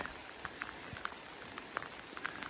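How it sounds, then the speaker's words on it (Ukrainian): Fresh, light rain falls in a cool Carpathian forest as a soft, continuous hiss with scattered, distinct droplet patters close by, and no voices. "помилуємося лісовою прохолодою, свіжим дощиком у Карпатах"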